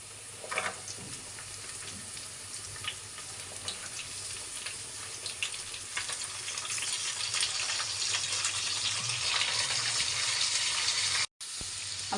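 Onions frying in a pan for a simple tomato gojju, a steady close hiss and sizzle that runs almost without break and grows slightly louder, with one brief cut near the end.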